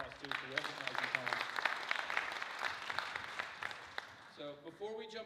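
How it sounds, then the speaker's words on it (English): A room gives a round of applause at a community meeting, moderately quiet clapping with a speaking voice at the start and again as it tapers off. "let's give Terry a round of applause, too, for recognizing Tom"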